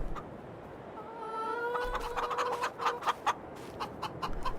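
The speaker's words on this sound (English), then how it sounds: "Oh, look at that! We got chickens!" Chickens and a rooster in the farming game Farming Simulator 22, clucking steadily at close range over a busy ambient background, with one drawn-out call in the middle.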